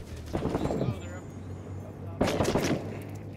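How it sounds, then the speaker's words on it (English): Mortar rounds in the Six Days in Fallujah video game, two heavy booming blasts about two seconds apart, loud and close, with a low engine-like rumble underneath. "those mortars are right here in this building right beside us"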